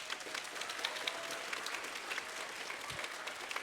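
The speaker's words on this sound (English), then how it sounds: "So we can give them a round of applause." A room full of people claps steadily after a 4th and 5th grade spring school concert, a dense patter of hands at moderate distance with no voices over it.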